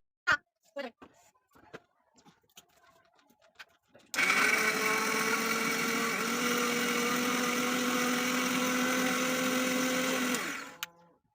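An electric mixer grinder runs for about six seconds, grinding spice paste in a loud, steady motor whine that stops abruptly. Before it starts, a few short voices and light household sounds are heard.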